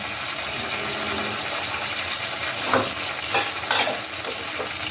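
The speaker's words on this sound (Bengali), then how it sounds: "এবার দেখো মশলাটাকে এবার কষাচ্ছি।" Tomato, chili paste, cumin and ginger paste sizzling as they are sautéed for chhanar dalna, a steady close frying hiss broken by a few spatula scrapes and stirring knocks.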